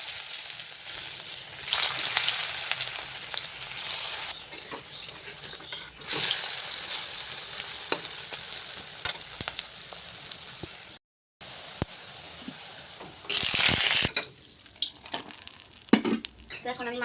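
Potato and onion pakoras frying in hot oil: a steady, close crackling sizzle that swells in loud bursts and eases off, with a brief silent gap partway through and no talk.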